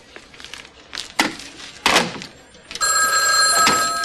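A telephone in an office setting rings loudly with a steady bright electronic trill in the last second, after a few thuds and knocks; no speech is heard.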